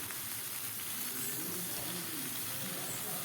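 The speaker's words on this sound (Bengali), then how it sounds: "এবার এই কড়াইয়েতে আমি সর্ষের তেল আর আগে থেকে টুকরো করা বেগুনগুলো আমি দিয়ে দিলাম।" Brinjal pieces fry in mustard oil in a wok, giving a loud, steady hissing sizzle that fills the whole moment without letting up.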